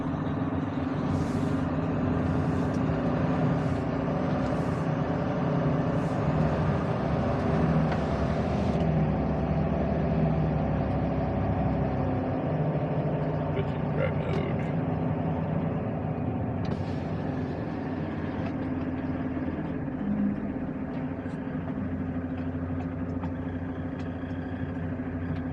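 Mack truck engine running steadily while driving, a loud continuous low drone with road noise and occasional higher hisses, no talk.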